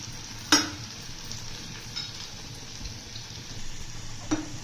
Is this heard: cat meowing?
no